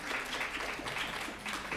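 Audience applause at a panel discussion on cities and inclusion, a short burst of dense, steady clapping from a crowd in a hall, heard alone at moderate level.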